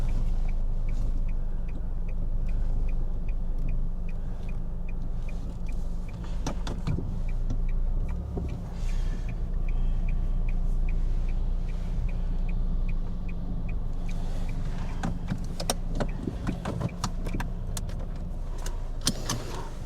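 A car in Vancouver being parked: a steady low engine rumble runs throughout, with a faint repeating tick and scattered clicks and small mechanical knocks near the end, and no talking.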